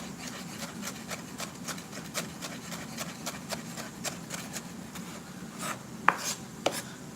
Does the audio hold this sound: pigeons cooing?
no